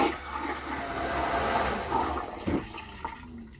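A marine head toilet on the sailboat Island Thistle flushes with a push-button electric pump, giving a steady rushing water sound for a few seconds that ends in a couple of gurgling knocks and then fades.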